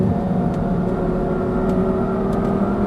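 Audi R8 V10 engine on a race track, running at high revs in a steady, continuous drone with strong low harmonics, close and loud without a break.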